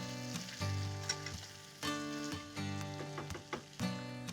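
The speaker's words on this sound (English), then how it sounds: "One more stir to mix all of this properly in." Carrots, cauliflower, capsicum, beans and peas sizzle steadily in a hot pan while being stirred, with repeated scraping strokes of a spoon against the metal cutting through the continuous frying hiss, close and fairly loud with no voices.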